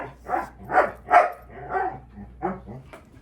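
A dog barks repeatedly at close range, six or so short sharp barks in a loose rhythm, fairly loud with a quiet room behind.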